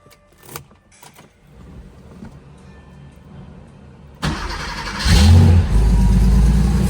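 A 1987 Porsche 911 Carrera sits quiet for a few seconds with faint clicks and key rattles, then its engine cranks, fires up loudly and revs before settling into a steady, rumbling idle.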